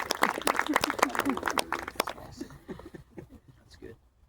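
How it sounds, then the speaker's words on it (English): Wedding guests applaud for Greg with a dense burst of clapping lasting about two seconds, then it fades as a voice speaks. "Let's give Greg a round of applause on that part."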